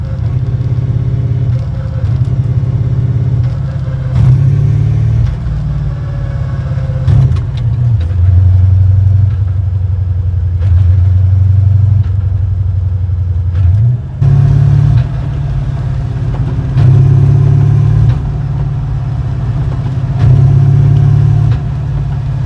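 A manual-transmission car with a suspected clutch problem drives up a street, its mid-pitched engine droning steadily, rising and falling in revs with abrupt dips where it seems to drop out of gear and then grab again.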